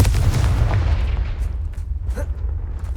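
A Confringo spell explodes in the video game Hogwarts Legacy. A loud booming blast rumbles low and heavy, then trails off into a fading rumble with some crackling debris.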